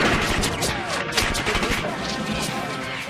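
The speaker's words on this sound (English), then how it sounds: "the bullets flying off the bridge's steel girders" Battlefield gunfire rattles nonstop, with bullets ricocheting off a bridge's steel girders in a dense, loud barrage of sharp cracks and metallic zings, with no pauses.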